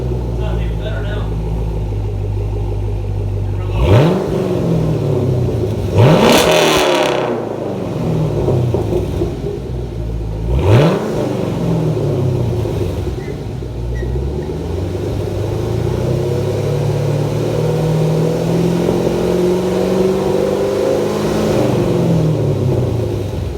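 A Chevrolet Camaro SS 1LE fitted with an X-pipe plus resonator and muffler delete idles with a deep rumble, then snaps through several sharp revs that fall back down, with people talking over it.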